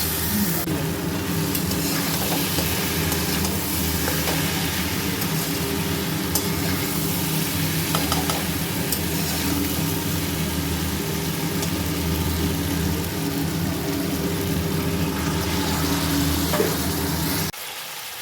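Vegetables are sautéed with turmeric in a pan, giving a continuous loud sizzle with faint stirring scrapes throughout. A low steady hum runs underneath, and the sound cuts off abruptly near the end.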